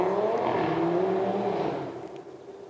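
A loud car engine drones and revs close by, then eases off and fades slightly toward the end.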